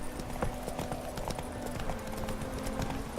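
Hooves of a horse clip-clop at a steady trotting pace in the video game The Witcher 3, moderately quiet, set against a constant ambient bed with no speech.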